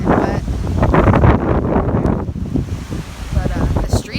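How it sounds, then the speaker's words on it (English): Gusty wind and rain in the aftermath of a hurricane roar against the microphone in heavy, uneven bursts, with a voice speaking briefly over the din. "It's raining and windy"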